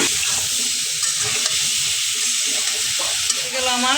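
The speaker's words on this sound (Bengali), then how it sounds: "আমার আলু ফুলকপি ভাজা" Potatoes and cauliflower frying with turmeric powder in a pan, a steady loud sizzle with stirring scrapes running throughout, alone with no voices.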